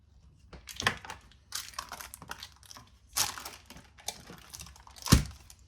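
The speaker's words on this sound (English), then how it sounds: "And then we're just going to cut it into pieces." A knife cuts sticky, gooey pumpkin pie fudge into pieces, giving a few soft, close crunchy-crinkly bursts with short pauses between them and no talking.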